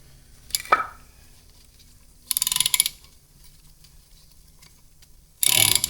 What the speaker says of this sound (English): use it as a ratchet